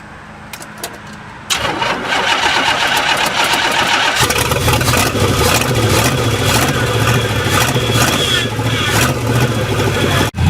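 An old car engine that had not run in over four years cranks briefly on a cold start, then catches and roars to life, settling into a loud, steady running rumble close by.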